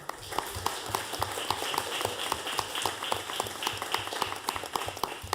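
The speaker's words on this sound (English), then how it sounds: "please stand so we can give them a round of applause" Scattered, fairly faint applause from a school board meeting audience: a modest number of hands clap unevenly in a large room, steady but thin throughout the few seconds.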